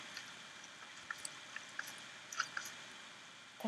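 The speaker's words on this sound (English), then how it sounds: "That's that squishing sound." Faint, wet squishing ticks and drips are scattered sparsely over a quiet Minecraft game background, each one short and soft, with no talk.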